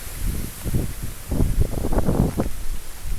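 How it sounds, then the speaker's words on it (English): Gusty wind buffets the microphone in low rumbling bursts, with leaves rustling in a forest around it; no one speaks. "It is so windy out here."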